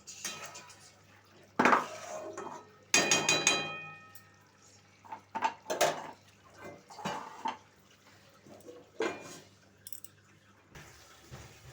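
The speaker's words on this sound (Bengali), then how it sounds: "আবার কিছুক্ষণের জন্য ঢাকা দিয়ে দেবো" A lid goes onto a cooking pot of pointed gourd and prawns with coconut, heard as a few sharp metallic clanks and rattles of pot and utensil, close, separated by quiet gaps.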